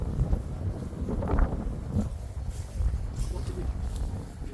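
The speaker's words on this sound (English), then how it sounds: "windy in here." Gusty wind buffets the microphone with low rumbling blasts, steady and close, with brief rustling bursts, at the Drop Redoubt fort on the Western Heights, Dover.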